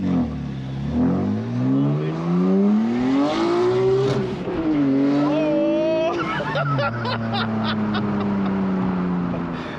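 A Nissan R33 GTR V-Spec with a 2.8-litre HKS stroker engine, on low boost, accelerates hard with wheel spin. Its engine note sweeps up through several loud, close rising revs with brief dips between gear changes.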